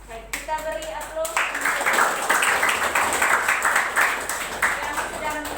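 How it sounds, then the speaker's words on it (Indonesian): A classroom of students claps for classmates who have just presented, with brisk, steady applause rising after a brief pause and continuing close and lively throughout, while a voice briefly speaks before it. "Baik, kita beri aplaus"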